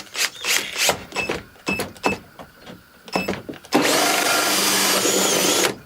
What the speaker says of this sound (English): So I'm going to drill my hole right here.